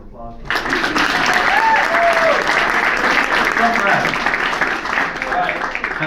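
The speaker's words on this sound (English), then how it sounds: "That deserves a round of applause." An audience at a Rose of Tralee interview event breaks into loud sustained applause starting abruptly, a dense wall of clapping with cheers and voices calling out over it.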